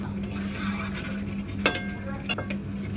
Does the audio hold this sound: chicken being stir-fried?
yes